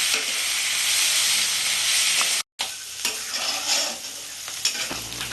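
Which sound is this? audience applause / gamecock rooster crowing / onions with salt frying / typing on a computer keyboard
onions with salt frying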